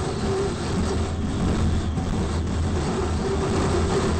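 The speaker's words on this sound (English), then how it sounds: "You can just hear him feathering the throttle." A GP1 racing powerboat engine gives a loud, continuous roar with slight rises and dips in pitch as the throttle is feathered on and off, steady throughout.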